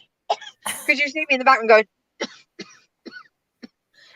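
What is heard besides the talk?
coughing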